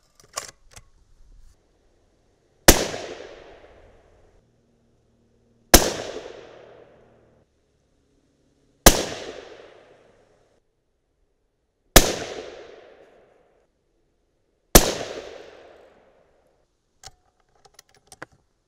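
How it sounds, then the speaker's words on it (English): Five sharp rifle shots are fired one at a time at a ShotMarker electronic target, each a loud close crack with a decaying tail, evenly spaced about three seconds apart. "So let's shoot a 5-shot group."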